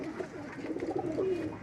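Pigeons kept by a hobby breeder coo in a low, rolling warble, a few soft repeated calls close by with no talking over them.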